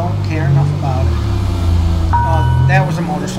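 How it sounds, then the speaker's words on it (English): In GTA V with the LSPDFR police mod, a motorcycle engine drones past, swelling and fading under a person talking, alongside the hum of the player's own vehicle. "That was a motorcycle."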